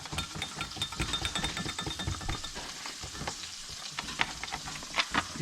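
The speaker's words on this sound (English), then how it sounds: "Just whisk that in there slowly" A wire whisk scrapes and clinks steadily as flour is stirred into sausage gravy in a hot, gently sizzling pan, heard up close with no talk.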